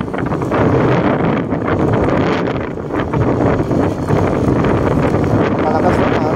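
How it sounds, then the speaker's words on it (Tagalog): Strong wind buffets an open microphone beside a newly finished bypass road in Laguna, a steady loud roar with gusting rumble that runs the whole time with no break. "Malakas na hangin."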